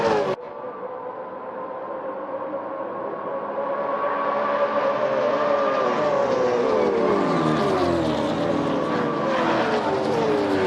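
Supercars race cars at Ruapuna circuit, a loud sustained engine roar with rising and falling pitch as cars accelerate onto the main straight, steady and close throughout.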